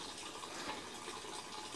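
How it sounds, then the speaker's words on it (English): Water flows steadily through a large DIY rainwater filter tank for drinking water, a constant gushing, splashing rush that stays even throughout with no talk. "That means water go now through the tank,"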